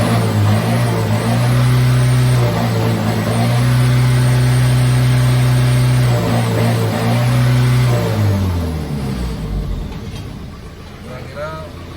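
A Toyota FJ40 with a custom body and a swapped 15BT diesel engine revs up close and loud, holding high RPM in long steady pulls before dropping back to idle, while people talk over it.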